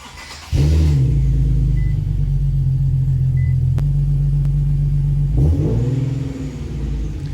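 A cold Infiniti Q50 engine cranks and catches, then settles into a loud, deep, steady idle with the revs hanging slightly high before easing back down near the end.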